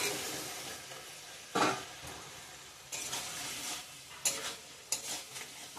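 Fried potato, cauliflower and pointed gourd for a vegetarian dalna are stirred and sautéed in hot oil, giving a soft continuous sizzle broken by several louder scraping stirs, with no talk.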